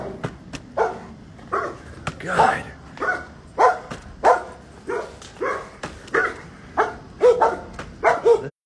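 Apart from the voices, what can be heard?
dogs barking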